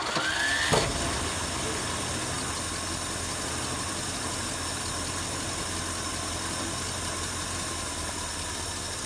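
A small engine catches after a pull and a brief rising whine, then settles into a steady, even idle that runs on close and unchanging for several seconds.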